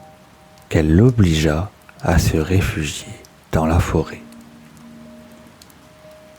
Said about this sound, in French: La pluie était si forte